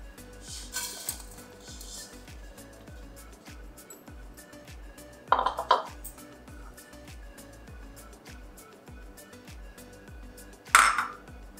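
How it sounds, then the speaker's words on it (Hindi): Desiccated coconut, condensed milk and milk powder being stirred together in a pan, with soft repeated scraping and spoon taps against metal and a few sharper clinks, close and moderately quiet. "अब हम पैन में सारे इंग्रेडिएंट्स मिक्स कर लेंगे"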